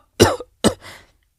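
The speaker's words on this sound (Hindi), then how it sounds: "तभी कबीर को फिर से हल्की सी खांसी आती है" Two short, light coughs in quick succession, close and clear against silence.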